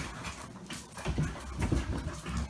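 Dogo Argentino dogs pant and whimper indoors in close, breathy rhythmic pulses, with soft whines mixed in over a muffled room background.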